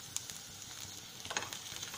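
Onions fry in a pan with a faint, soft sizzle, close but quiet, broken by a few small pops and stirring clicks.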